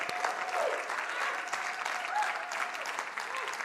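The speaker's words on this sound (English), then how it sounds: "You need to give them a round of applause." A congregation at a Sunday church service claps for its board of trustees, a dense, sustained round of applause with faint crowd murmur mixed in, moderately close.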